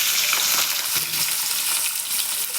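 Potato pieces drop into hot oil already frying chopped ginger and garlic, giving a loud, continuous sizzling hiss with a few brief stirring bumps.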